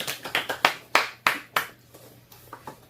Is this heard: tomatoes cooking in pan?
no